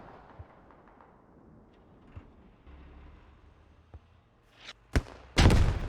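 An RPG launched through smoke in the military shooter Squad, heard as scattered distant thumps and a low rumble, then a sharp loud crack and a heavy close blast near the end, with no talking.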